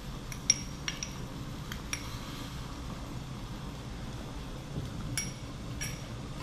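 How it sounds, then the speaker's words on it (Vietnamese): Clams and luffa stirred in a pan give faint, sparse clinks and scrapes of a utensil over a low, rumbling background noise, with no voices. "Mình tiếp tục đảo cho gia vị ngấm đều ngao và mướp"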